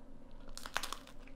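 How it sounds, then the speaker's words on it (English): A bite into hot, crunchy semi-homemade vegan pizza with bubbly baked dough gives a short burst of crisp crunching close to the mic, with a sharp crack in the middle and faint chewing after. "Has a really good crunch,"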